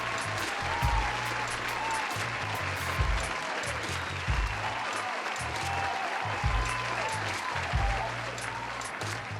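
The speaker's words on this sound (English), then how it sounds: "So give them a round of applause." Applause from a studio audience on a podcast set, steady clapping throughout with a few louder swells, accompanied by low rhythmic background music.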